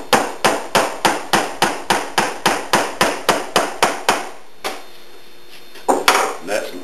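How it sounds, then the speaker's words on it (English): A nail is tapped into wood while building a soap mold: about sixteen close, sharp, evenly spaced hammer blows in a steady rhythm, a short pause, then a few final strikes. "Then we'll take a nail."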